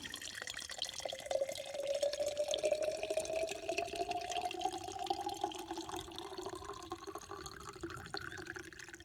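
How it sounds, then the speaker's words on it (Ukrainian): Water streams steadily into a small 300 ml travel electric kettle, the hollow gurgling tone rising in pitch as the vessel fills, close and continuous for several seconds. "Так, заливаємо в нього воду."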